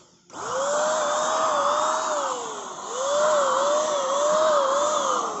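A Coofix electric spray gun runs with a steady, loud motor whine and a clear wavering tonal hum, starting abruptly after a brief quiet and dipping slightly midway before holding steady to the end.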